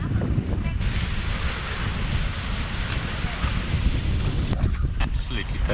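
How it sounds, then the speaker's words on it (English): Steady wind rushing past the microphone aboard a sailboat in a sheltered channel, with broadband gusty roar and faint water wash throughout, fairly loud and continuous with no talking. "Absolutely perfect sailing conditions. Sheltered from the waves, but beautiful wind."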